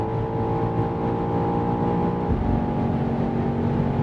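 BMW XM engine pulling hard on the autobahn, a steady loud droning hum with layered tones that shift slightly midway, heard from inside the cabin without any talking.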